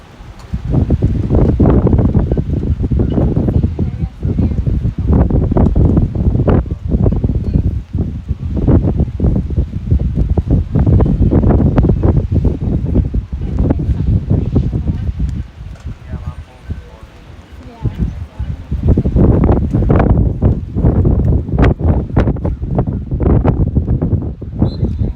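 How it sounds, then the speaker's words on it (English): Strong gusts of wind buffet the microphone at an outdoor soccer match, a loud continuous roar with surges that drop briefly midway, with faint crowd and field sounds beneath. "her saving touch is again pushed out by this gusty wind"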